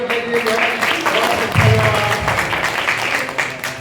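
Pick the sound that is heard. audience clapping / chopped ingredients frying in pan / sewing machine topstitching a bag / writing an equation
audience clapping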